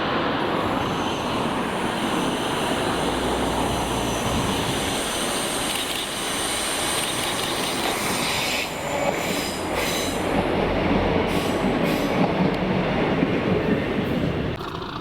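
ScotRail train 156476 passes Barassi Junction with a continuous rumble of wheels on rail and a thin squeal overhead, steady and fairly close for the full duration, with no voices.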